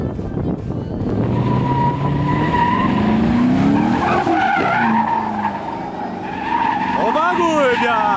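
A Chevrolet Camaro drifts on a sunny day, its tires squealing and skidding in long sweeping wails over a roaring engine that rises and falls, loud and nearby, with people talking over the noise.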